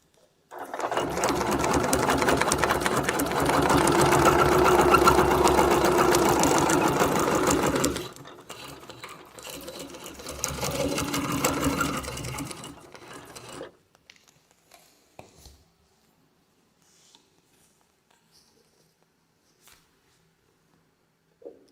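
A sewing machine stitches a wreath embroidery design, a loud, fast continuous mechanical whir that drops to a lighter run after about eight seconds, then stops, leaving near silence with faint handling clicks.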